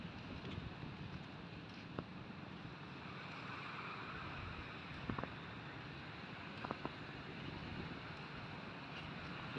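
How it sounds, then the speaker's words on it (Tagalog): Steady roar of strong wind and surging waves along a seashore during a typhoon, a continuous broadband wash with a few brief knocks and gusts, no voices. "Ang lalakas ng alon dito sa amin."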